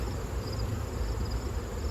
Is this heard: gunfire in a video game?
no